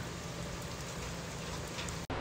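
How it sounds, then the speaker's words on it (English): Heavy rain pours in a constant dense hiss, close and loud, with no other sounds standing out before an abrupt cut at the end. "it's raining pretty hard out there"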